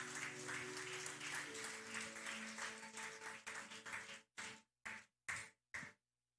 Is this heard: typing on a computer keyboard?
no